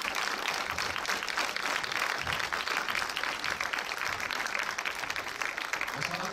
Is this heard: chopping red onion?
no